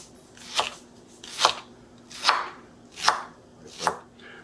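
A knife chops a shallot on a cutting board in five distinct, evenly spaced strokes, close and clear with quiet in between and no talking.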